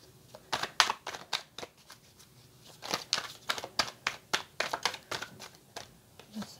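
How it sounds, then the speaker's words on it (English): Tarot cards are shuffled and drawn close by in a run of quick, crisp riffles and snaps, fairly steady and fairly loud against a quiet room. "I'm definitely going to have to pull a couple more cards before I interpret those."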